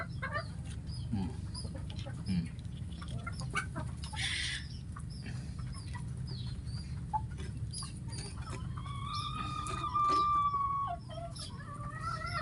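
A sick chicken pecks at food, with soft clucks and faint tapping over a steady low hum of background noise, and a brief higher bird call near the end.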